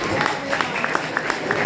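Audience applause for Sylviane Pierron at a birthday show, a brief burst of crowd clapping with rhythmic sharp claps close by.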